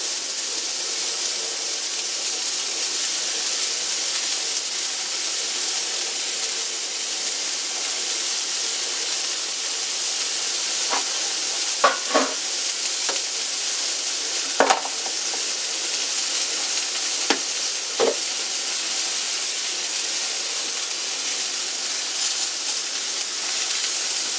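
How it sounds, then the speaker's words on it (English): Bacon sizzles steadily in a cast iron pan for a burger cookout, a constant loud frying hiss with a few sharp pops and crackles scattered through the middle. "Guess I can go ahead and throw the bacon on there."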